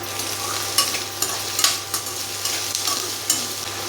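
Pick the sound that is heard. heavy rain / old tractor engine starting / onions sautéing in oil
onions sautéing in oil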